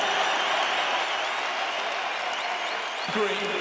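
A crowd fills a boxing arena after a fight with broad, loud applause and cheering, heard under a voice talking close by.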